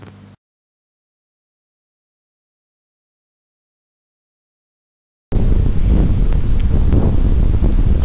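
Strong wind roars across a links golf course on Germany's Budersand course, heard as a loud, continuous rumbling gust buffeting the microphone after a brief sound and a long stretch of silence.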